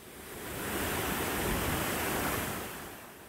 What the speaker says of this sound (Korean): 아라 폭포는 2단 폭포인데요.